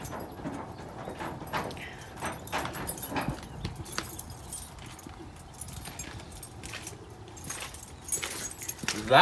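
Keys jangle and clink in bursts while being tried one after another in a storage unit lock, with faint scraping and handling noise between them and no one speaking.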